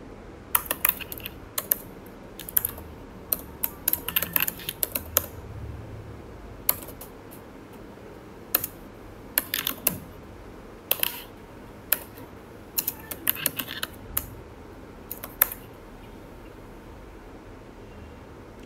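Someone types on a computer keyboard in irregular bursts of close, crisp key clicks with short pauses between runs, lasting nearly nineteen seconds, with no speech.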